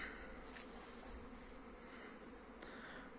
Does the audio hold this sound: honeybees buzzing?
yes